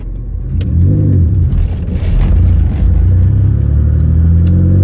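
A car engine runs loud and steady with a deep rumbling drone, rising slightly in pitch as it revs, with occasional light clatter.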